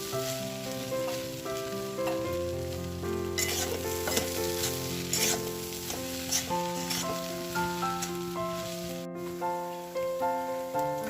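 Pigeon pea (tuver) filling cooking in a pan, a close steady sizzle with bursts of scraping and stirring, a brief sharp break near the end, and no talking.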